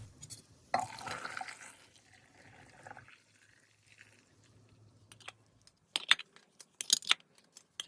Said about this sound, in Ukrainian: Маринад закипів, заливаю ним бурячки.